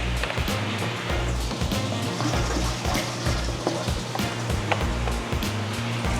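Tap water pours steadily and loudly straight from the faucet into an aquarium during a water change, a dense continuous gush with small splashes throughout.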